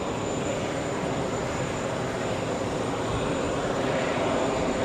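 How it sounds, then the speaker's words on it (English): A Boeing 777 airliner takes off from JFK bound for Hong Kong, its engines a loud, steady roar that fills the whole stretch. "big 777 out of here, flying to Hong Kong"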